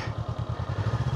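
A motorcycle engine turns over and runs during a road trip in Japan, making a quick, even, low chugging pulse close by, brief and steady, with no talk.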